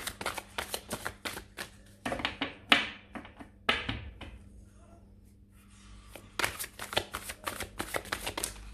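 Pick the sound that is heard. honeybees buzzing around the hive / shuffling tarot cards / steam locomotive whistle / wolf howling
shuffling tarot cards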